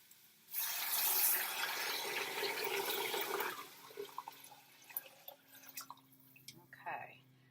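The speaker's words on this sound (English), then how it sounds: "I'm going to add the water." Water pours in a loud, steady gush into a cooking pot for about three seconds, with many cups being added for a tripled recipe, then stops, followed by a few light clinks and handling sounds.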